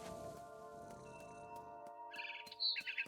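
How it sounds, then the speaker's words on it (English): Barn swallow chirping in the video game What Remains of Edith Finch, a few bright, rapid chirps arriving near the end over a low, steady ambient hum, with a handful of soft clicks earlier. "Then I heard chirping outside my window."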